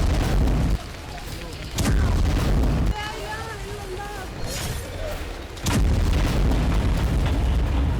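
Bombardment and artillery fire in the Gaza war: heavy booming blasts and rumbling bursts that cut in loudly at intervals, with quieter stretches between and a voice briefly audible in the background.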